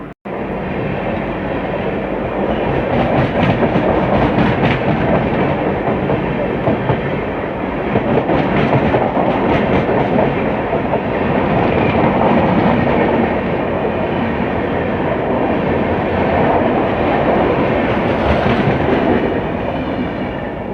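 A Sealdah–New Delhi Rajdhani Express runs on a railway track with a loud, steady rumble and rhythmic wheel clatter heard close from on board. The noise continues for the whole stretch with no talking.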